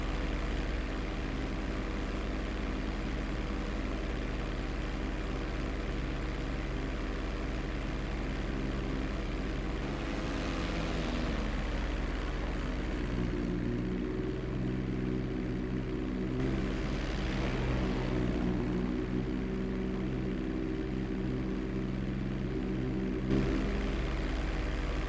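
A CV-22B Osprey tiltrotor cruises over Paleto Bay in GTA 5, its engines a steady, droning hum with a low rotor throb that holds throughout, swelling briefly twice as the aircraft maneuvers, with no voices.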